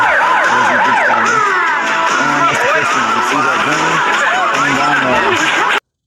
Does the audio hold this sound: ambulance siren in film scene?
yes